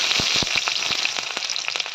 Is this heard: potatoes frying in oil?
yes